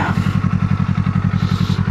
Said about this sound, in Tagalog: means of transportation ko talaga itong motor